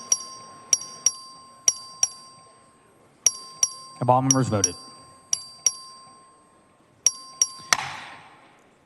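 Texas House voting bell rung by the clerk, a series of clear, sharp dings in small clusters repeating through the chamber, with a brief spoken question in the middle.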